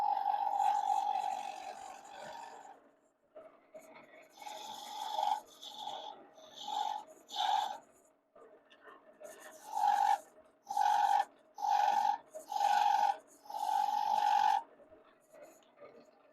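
A wood lathe tool undercuts and chamfers a turned piece, giving a steady rasping scrape, then a run of short, rhythmic cutting strokes in bursts, close and fairly loud over the lathe's faint hum.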